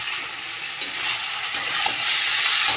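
Cauliflower and prawns stir-fry with spices in a pan, giving a steady close hiss of sizzling oil with a few soft scraping stirs, and no talking.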